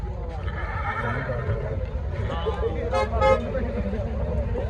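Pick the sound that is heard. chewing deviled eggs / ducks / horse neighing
horse neighing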